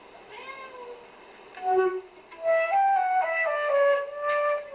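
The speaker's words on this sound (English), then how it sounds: "Oh, we got a cat." A cat meows several times in a recording being watched, with high drawn-out and rising cries, moderately close and alone over a quiet background.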